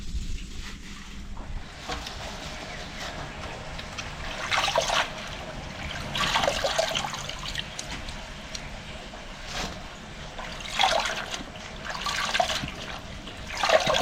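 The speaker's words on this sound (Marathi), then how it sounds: "भरपूर असं पाणी घ्यायचं आणि स्वच्छ धुवून घ्यायची भाजी." Kurdu leafy greens rinsed in plenty of water, with recurring swishes and splashes rising and falling over a constant watery background.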